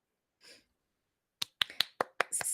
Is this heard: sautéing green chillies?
no